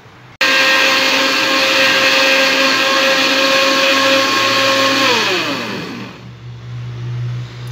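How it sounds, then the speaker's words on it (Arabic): An electric blender grinding eggplant and other ingredients for a warm drink starts abruptly with a loud, steady high whine. After about five seconds it winds down to a lower rumbling hum, with no voices. "ودابا غادي نطحن هاد المكونات كامله حتى نحصل على مشروب"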